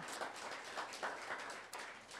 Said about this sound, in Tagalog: Malakas ang palakpak naman sa Panginoon.